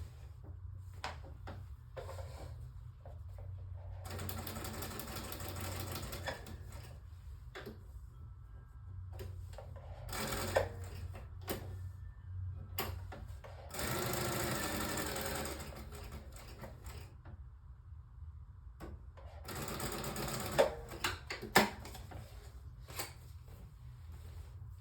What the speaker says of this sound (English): I just did a straight stitch around the trim, the brown trim that was already there